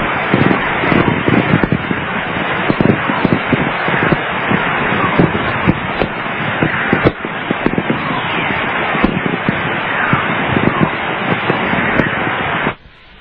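A dense, crackling burst of static from a radio recording of a solar storm, made in Death Valley in March 1998, full of rapid pops and hiss, steady throughout before cutting off abruptly at the end.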